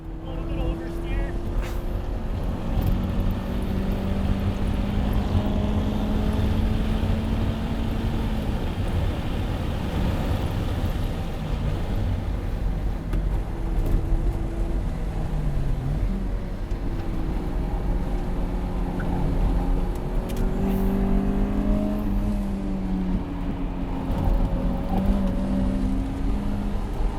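A Mazda Miata with a grip setup on a race track during a hot lap, its engine droning steadily and loudly with shifting pitch as it revs, heard from inside the car with a passenger's voice over the roar.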